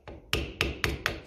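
A flathead screwdriver taps a metal clip on a Lucas D3A4 distributor cap from a Ferguson tractor, giving four sharp evenly spaced metallic knocks after a softer first touch, close and loud.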